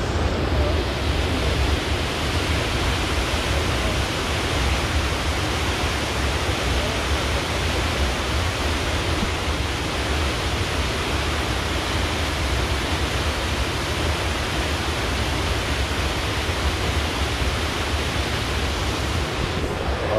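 Nami Falls, a waterfall, roars as a steady, dense wash of rushing water that stays constant and close throughout, with no voices over it.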